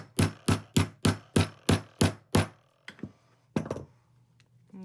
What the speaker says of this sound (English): and hammer it down